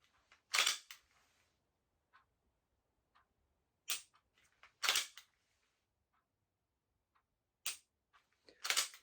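Dry-fire trigger presses on an unloaded handgun, heard as a handful of sharp, crisp mechanical clicks spaced irregularly several seconds apart, close up and isolated against near silence.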